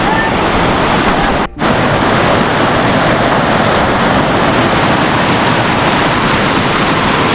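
Ayusai Waterfall in Kazakhstan roars as a steady, dense rush of falling water close by, loud and unbroken apart from one brief dip.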